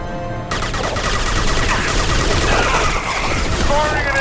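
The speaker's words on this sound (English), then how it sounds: "Firing an impact shot." Impact shot power fired in Mass Effect 2 Legendary Edition, a loud burst of game gunfire that opens abruptly and rolls on as dense crackling shots and blasts, up close throughout.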